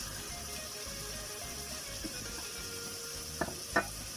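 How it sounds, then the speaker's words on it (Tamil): Cabbage and egg curry with soy sauce sautés in a pan, giving a constant close sizzle, with a few sharp scraping clinks of stirring near the end and no voices. "இதை நல்லா வதக்கி விட்டுப்பாங்க."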